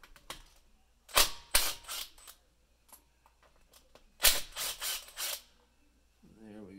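Socket ratchet loosening bolts on a GMC motorhome engine during engine removal prep: two clusters of sharp, quick clicking bursts a few seconds apart, fairly close and moderately loud, with quiet gaps and a brief low hum at the end.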